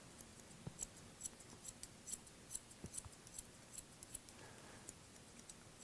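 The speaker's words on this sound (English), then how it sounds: "it's just much more accurate to use a scissor over comb technique" Scissors cutting short men's hair with a scissor-over-comb technique: quick, faint metallic snips repeating in a steady rapid rhythm, close but quiet.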